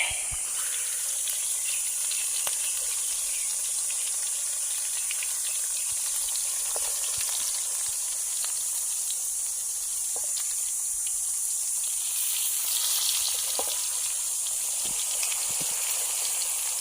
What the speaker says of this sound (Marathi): फायनली सुरमई टाकली तव्यावरती बघूया आता